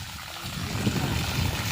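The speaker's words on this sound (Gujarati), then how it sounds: "અહીંયા જો ધોધ આવી રહ્યો પાણીનો" Small waterfall of water pouring at a farm orchard, a steady close trickle and splash running continuously without pause.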